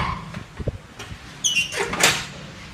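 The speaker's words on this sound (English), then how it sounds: "Let me close the door to show you what it looks like." A tornado safe room door swings shut in a house under construction, with a few soft knocks and then a louder sliding, latching clunk, close by.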